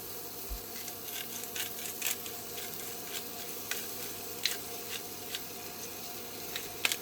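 Hands squish and knead raw sausage meat for a burger, soft wet rubbing and squelching in uneven bursts, close and fairly quiet with no talk.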